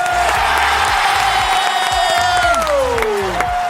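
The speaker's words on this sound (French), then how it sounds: "Réservez vos applaudissements pour Rosalie Forger!" A crowd claps and cheers loudly in a sustained burst of applause, with a held musical tone gliding downward over the noise.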